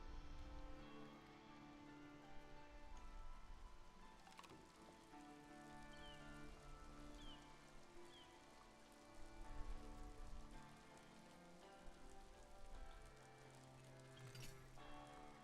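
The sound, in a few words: rain falling in a video game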